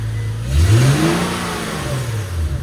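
A G37's engine, fitted with a new HKS Hi-Power aftermarket muffler, revs up loudly with a gruff, throaty roar, then eases back into a steady rumbling idle, very close.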